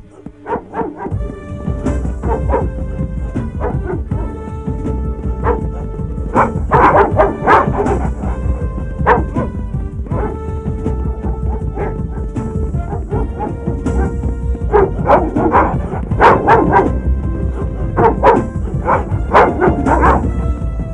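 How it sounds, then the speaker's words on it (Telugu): Several dogs released during a chase scene in a Telugu comedy film bark and yip repeatedly in loud, overlapping bursts, layered over a dense musical score with crashes, continuing throughout. "కుక్కలు వదలరా."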